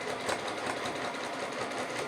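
A sewing machine runs steadily, stitching a quarter-inch seam on strips of fabric for a pineapple quilt block, with a continuous close whirring hum that holds an even level throughout.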